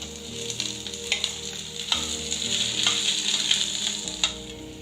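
Two medium onions sauté in a pan for an onion tomato chutney. A continuous close sizzle carries scattered clicks and scrapes from stirring, with no voices.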